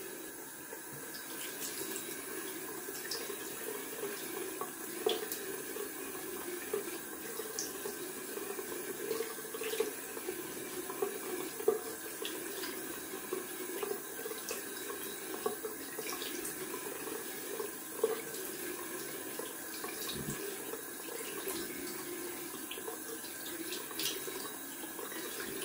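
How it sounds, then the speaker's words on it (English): Water runs steadily from a tap into a sink, a constant soft splashing flow with small occasional clicks. "Cold water."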